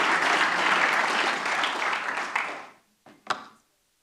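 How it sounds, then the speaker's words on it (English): An audience applauds in a meeting or conference room, a steady broad round of clapping that fades out over about three seconds, followed by a few isolated claps near the end. "Another round of applause, please."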